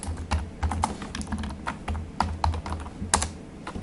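Code is typed on a computer keyboard in a steady run of close, crisp key clicks, with a few louder strikes standing out among rapid, uneven taps.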